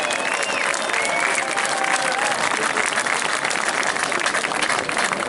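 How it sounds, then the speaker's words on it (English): A large crowd at a street march in Birmingham claps and cheers continuously, a loud, dense wash of applause that holds steady throughout. "So all of you, give yourself a big cheer."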